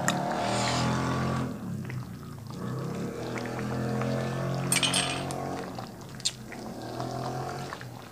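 Glasses of soju clink together in a toast over a Korean beef tripe hotpot dinner on a chilly autumn night, a few sharp bright taps heard close by over a background murmur and some pouring.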